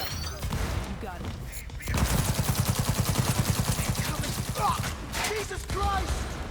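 Gunfire in Cyberpunk 2077 Phantom Liberty crackles as rapid automatic bursts, a long steady volley in the middle with scattered shots around it, loud and close, with voices talking between the shots.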